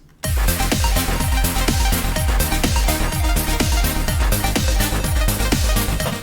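A loud, high-energy electronic dance track thumps with a driving four-on-the-floor kick, dense synths and bright cymbals, no vocals.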